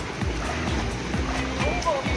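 Strong water of a resort lazy river in Dasmariñas, Cavite rushes and sloshes continuously nearby, with people talking over the flow.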